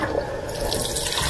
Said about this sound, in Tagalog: bigyan ko na lang muna ng tubig, tapos hayaan lang din siya mabukal at maluto